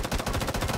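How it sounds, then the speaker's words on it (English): A rapid burst of automatic gunfire in the video game Rising Storm 2: Vietnam, several fast shots in a tight rhythmic string, fairly faint and over in under a second. "You have vicious burst fire."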